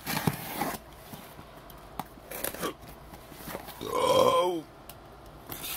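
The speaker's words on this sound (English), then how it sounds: "I like to burp." A person eating pizza while unboxing lets out a single short, low burp near the middle, preceded by scattered rustling and handling noises.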